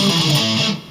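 Heavily distorted electric guitar rips through a fast burst of a riff, a dense, loud wall of tone lasting about a second before cutting off.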